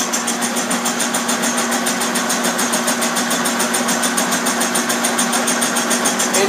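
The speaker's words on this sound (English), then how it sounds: "Running the cutter. Taking a cut." A boring cutter with its spindle at 400 machines the cylinders for an Allen 10-Wheeler locomotive, giving a steady close mechanical whir with a fast, even pulsing rhythm throughout and no voices.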